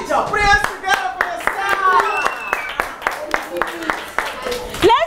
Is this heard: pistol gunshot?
no